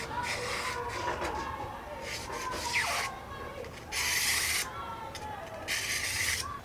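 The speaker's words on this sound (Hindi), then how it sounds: "चारों साइडों पे ब्लेड चला दिया ताकि थोड़ा सा स्मूथ हो जाए" A blade scrapes along the corners of a bamboo kite stick in repeated close, raspy strokes, soft and uneven, with short bursts of brighter scraping.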